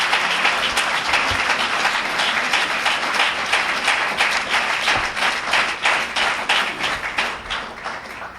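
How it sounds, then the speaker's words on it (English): A mosque congregation claps for a mother being honoured, a dense steady applause with sharp individual claps throughout, fairly close and loud, tapering slightly near the end. "Let's give her a well-deserved round of applause"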